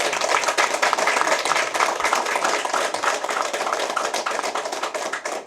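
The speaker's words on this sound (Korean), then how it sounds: "박수!" A room at a political briefing breaks into brisk, dense clapping that stays steady and fairly loud for several seconds, with no voices over it.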